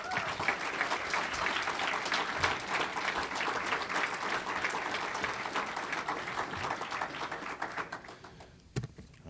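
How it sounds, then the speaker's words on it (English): Audience applause for high school athletes of the year at a sports awards breakfast: sustained, moderately loud clapping that tapers off toward the end, with a final few scattered claps. "One more round of applause for them as they take a seat."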